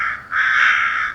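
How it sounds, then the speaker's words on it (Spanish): A crow caws twice, loud and close. The first call is short and the second is longer and sustained, and no voices are heard. "Y el cuervo, que solía posarse en la tapia,"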